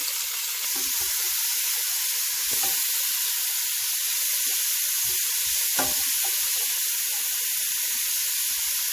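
Carrots, celery and leeks sizzle in a hot pan, a steady bright hiss with scattered crackles and pops throughout, close and alone without talk.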